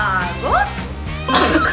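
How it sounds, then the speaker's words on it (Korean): A few short, sharp coughs break through a busy mix of voices and electronic game sounds. "갑자기 기침이 나와가지고"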